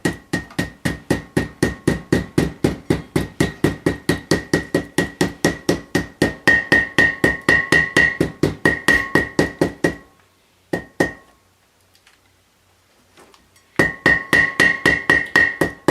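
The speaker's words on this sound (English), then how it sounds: "now I need to tap that in with this already nasty hammer" A hammer taps a part into place during ball joint, tie rod end and wheel bearing work on a Ford E-350 van, giving a long, steady run of sharp ringing metallic blows that pauses briefly before the hammering resumes.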